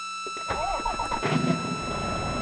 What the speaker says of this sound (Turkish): Şu anda Motorumuzu çalıştıralım.